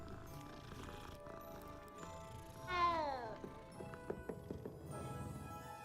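A cat meows once in the Hogwarts Legacy video game, a short falling, whining call that stands out over a soft bed of game ambience and light footfall-like taps.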